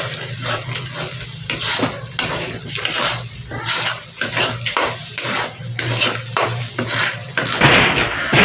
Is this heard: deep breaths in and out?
no